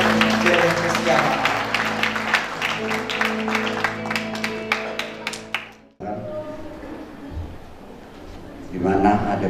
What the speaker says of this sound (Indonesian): mari disertai dengan tepuk tangan yang meriah